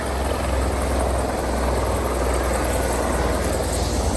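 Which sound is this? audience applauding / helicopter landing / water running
helicopter landing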